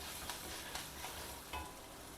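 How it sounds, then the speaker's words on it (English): Chopped green chilli sautéing in a pan with other ingredients for a South Indian coconut rice, a quiet steady sizzle broken by a few scrapes of stirring, close by and without talk. "I have also chopped 1 green chilli, saute that also along with all the other ingredients."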